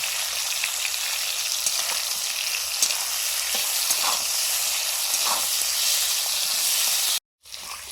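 Bitter gourd frying with turmeric and salt, a dense, even sizzle close by that runs without a break and drops out briefly near the end.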